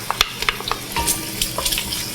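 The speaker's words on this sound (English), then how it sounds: "we are going to cook it, saute it with the bacon until it is soft" Half a cup of chopped onion sautés with bacon in a pan, producing a close, crackling sizzle with scattered pops and light stirring sounds, with no voices.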